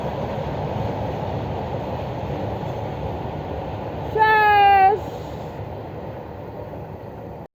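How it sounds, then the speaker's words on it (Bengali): A passing train rumbles steadily in the open air and gives one brief horn blast partway through, while people nearby talk over the noise. "এই যে রেল যাইতেছে দেখো"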